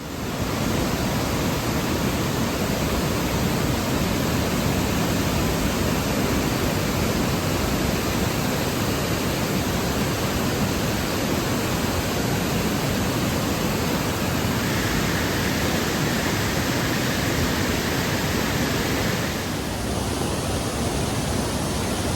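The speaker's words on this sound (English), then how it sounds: "This is Cascade Brook, and this is what I was supposed to cross on the Appalachian Trail. It's not crossable." Cascade Brook on the Appalachian Trail rushes in a steady, loud, continuous roar of fast-moving water, close by and unbroken for the whole stretch, with no voices.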